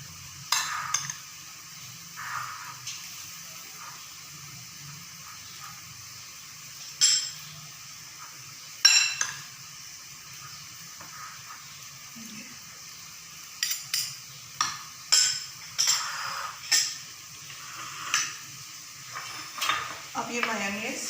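Shredded cabbage and other vegetables are tossed together with utensils for a chicken shawarma filling. Scattered scrapes and clinks arrive in short bursts, closer and busier toward the end, separated by long quiet gaps.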